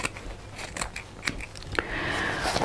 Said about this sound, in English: let me just trim that